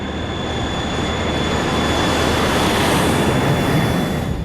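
Jet airliner engines at takeoff thrust on the runway, a loud, dense, continuous roar with a steady high whine, heard from inside, with no talking.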